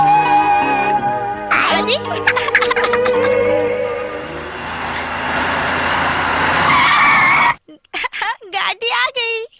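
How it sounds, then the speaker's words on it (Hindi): A car pulls up with loud skidding, squealing tires in a Hindi-dubbed action film, the skid building and fading before voices take over at the end. "गाड़ी आ गई।"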